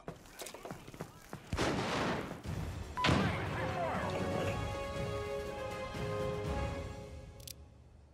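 A frag grenade explodes in America's Army: Proving Grounds, a loud close blast with a long rumbling, ringing tail, preceded by scattered gunfire and shuffling and backed by game voices.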